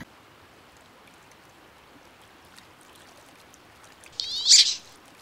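A single short, high-pitched meow rises out of a quiet outdoor background, brief and moderately close, then fades.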